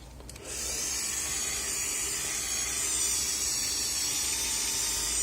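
A Dremel 4000 rotary tool runs unloaded indoors in an apartment, spinning up within the first half second, then holding a steady high whine with a soft hiss above low background rumble, fairly quiet and with no voices.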